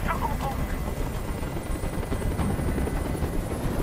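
A helicopter in the video game Detroit: Become Human thuds on steadily, a loud continuous rotor drone filling the scene for a few seconds without spoken words.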